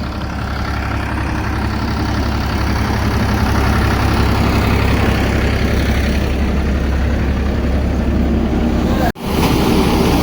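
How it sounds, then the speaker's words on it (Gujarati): A tractor-driven thresher runs on a farm, separating cumin, giving a loud, steady low engine drone with constant mechanical rumble; it cuts out briefly near the end, then resumes. "પછી તો ફાઇનલી હલર થઈ ગયો છે ચાલુ અને મંડી ગયા જીરો કાઢવા માટે"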